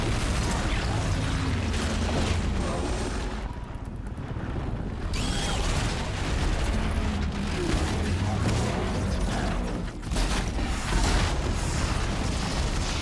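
An explosion in the video game Horizon Zero Dawn fills the scene with a loud, sustained rumbling roar and crackling debris, briefly dipping before surging again.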